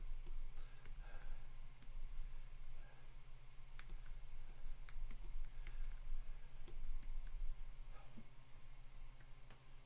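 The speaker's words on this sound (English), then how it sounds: "Let me see if I can type this in." A computer keyboard is typed on quietly and steadily for about ten seconds by a trivia quiz host, with soft irregular key clicks over a constant low electrical hum and no talking.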